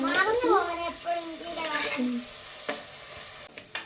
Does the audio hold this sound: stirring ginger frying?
yes